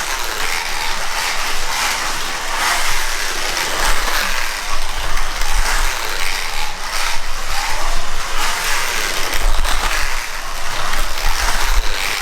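A small motor in a Ninco BMW E46 slot car running on a track whines and buzzes continuously at high pitch, with a rattling mechanical edge and occasional low rumbles, loud and steady throughout.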